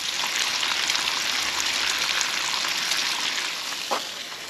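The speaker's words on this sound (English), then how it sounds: "that's a pound of bacon and 3 burgers, cooking it up" A pound of bacon and three burgers cooking on a campsite grill, producing a dense, steady rain-like sizzle up close, with one faint knock near the end.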